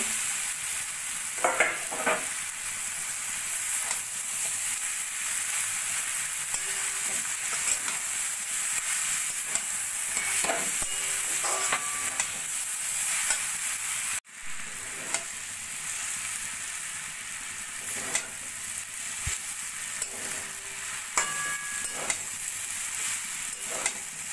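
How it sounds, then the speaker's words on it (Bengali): Mixed vegetables and hakka noodles stir-fry in a hot pan, a continuous loud sizzle broken by occasional scraping and clanking of the spatula as the food is tossed. "এদিকে আমাদের সবজিগুলো সুন্দর ভাজা ভাজা হয়ে গেছে।"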